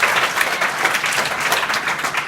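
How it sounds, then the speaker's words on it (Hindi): Schoolchildren clap together in a classroom at a middle school in Kolisa, Azamgarh: dense, steady applause with many overlapping claps, loud and close, running without pause through the whole moment. "अब इनके लिए ताली बजाओ"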